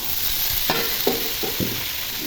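Vegetables frying in a kadai are stirred after rose powder goes in, a bright steady sizzle broken by four distinct scraping strokes of the spoon, close and clear, with no voices.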